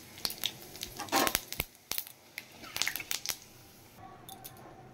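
Whole cumin seeds dropped into hot oil with whole garam masala, dried red chillies and bay leaves: quiet, irregular crackles and sharp pops in short bursts, close by.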